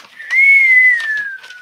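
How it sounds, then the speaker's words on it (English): A single thin, high whistling tone swells, holds steady and slowly glides downward over about a second and a half, standing alone against a quiet background, like wind whistling past in a snow-muffled outdoor stillness. "the sound of the wind whistling past you"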